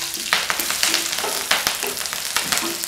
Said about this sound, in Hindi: इसके बाद मैं इसमें कड़ी पत्ता डालूंगी।